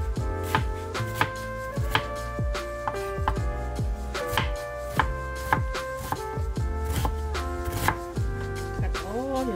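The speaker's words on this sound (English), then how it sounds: "now we're going to cut red onion" A knife chops red onion on a cutting board for fresh salsa, a steady close series of crisp thuds and taps at a brisk, slightly uneven rhythm over light background music, with no speech.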